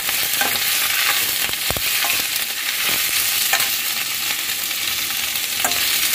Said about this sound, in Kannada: ಇದು ಒಂದು ಸ್ವಲ್ಪ ಬೇಗ ಮೆತ್ತಗಾಗುತ್ತೆ ಅಂತ ಒಂದು ಸ್ವಲ್ಪ ಉಪ್ಪನ್ನು ಹಾಕಿ ಫ್ರೈ ಮಾಡ್ತಾ